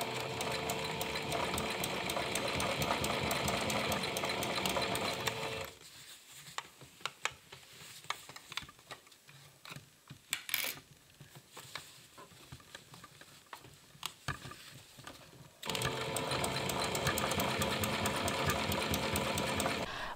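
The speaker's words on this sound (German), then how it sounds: "Wo man mit der Nähmaschine nicht mehr nähen kann" A sewing machine stitching the front pocket of denim jeans runs in fast, steady bursts of rattling stitches. It starts and stops, with a quieter stretch of handling noises in the middle.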